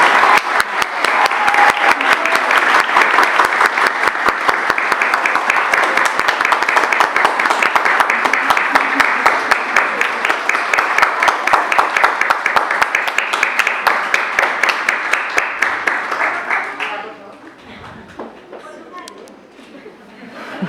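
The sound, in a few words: audience applause at award ceremony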